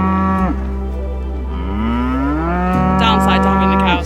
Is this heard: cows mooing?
yes